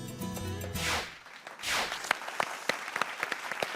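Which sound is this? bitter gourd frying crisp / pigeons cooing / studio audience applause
studio audience applause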